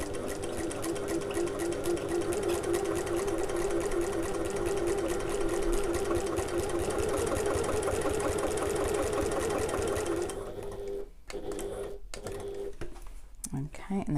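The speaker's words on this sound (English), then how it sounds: "Just take your time as you sew around this curve." A sewing machine runs steadily as it stitches around a curve on a backpack, with a fast, even mechanical whir that continues for about ten seconds before slowing into a few short bursts. A person talks over it.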